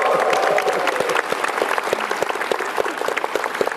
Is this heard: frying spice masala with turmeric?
no